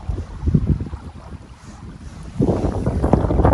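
Small inflatable boat motoring fast across calm water, with rushing wind buffeting the microphone and splashing hull noise, loud and close, dipping briefly then surging again, no voices.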